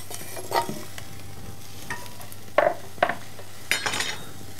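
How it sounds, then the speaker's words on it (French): Cumin and spices stirred in a pot for a pumpkin velouté, with a faint sizzle beneath a few separate scraping clinks of the spoon against the metal, some sharper than others, close by and with no talking. "On mélange un petit peu."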